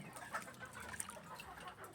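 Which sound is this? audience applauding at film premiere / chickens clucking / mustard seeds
chickens clucking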